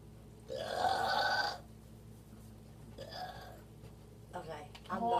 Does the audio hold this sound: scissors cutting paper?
no